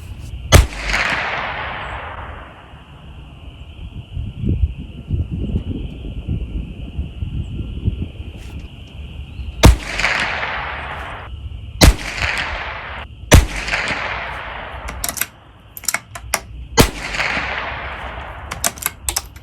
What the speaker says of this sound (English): We'll put about 5 shots down there and see if we can hit it.